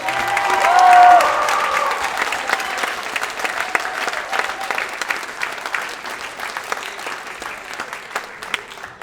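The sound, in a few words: audience applause at a talent show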